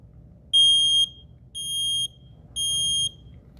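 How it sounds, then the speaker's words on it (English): Three loud, piercing electronic beeps from a smoke alarm's test button, each about half a second long and evenly spaced, with quiet in between. "Test them by pressing the test button on the smoke alarm to get an audible sound."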